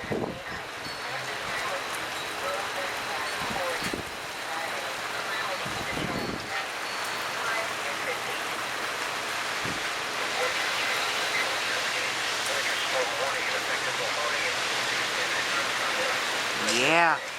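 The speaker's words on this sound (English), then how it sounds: "Rain's starting to get strong." Rain hitting a tarp during a windstorm in Tacoma, Washington, a steady broadband wash of falling water with gusty wind, continuous and fairly close, with a person speaking briefly over it.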